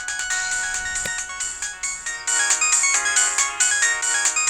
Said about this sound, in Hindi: वही फोन कर रही है उठा लेना।